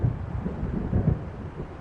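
A thunderstorm rolling in over the water in the game Alan Wake, heard as a low, continuous rumble of distant thunder with a windy wash beneath it, steady and fairly loud, with no voices.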